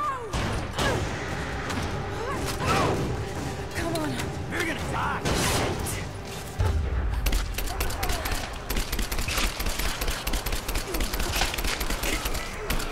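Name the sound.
assault rifle gunfire in video game Rise of the Tomb Raider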